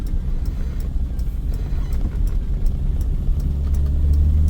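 A cammed and tuned BMW 325is EVO1 with a 2.9-litre stroker engine slows on the road, its engine note rumbling steadily and loudly inside the cabin while the idle hunts and rises slightly toward the end.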